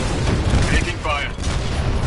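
Gunfire from the sci-fi shooter game Titanfall 2: a steady loud wash of shots and booming combat noise throughout, with voices speaking over it.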